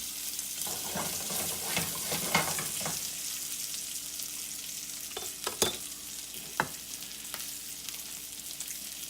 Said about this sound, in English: And now we're gonna sear it.